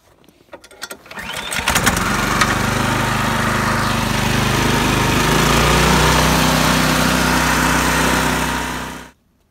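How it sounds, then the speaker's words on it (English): A Briggs & Stratton 1024L 24-inch snowblower engine starts after a few clicks and pulls, then runs loud and steady with a close, constant drone before cutting off abruptly. "This is my Briggs & Stratton snowblower, 1024L. It's a 24-inch, and this thing is a beast."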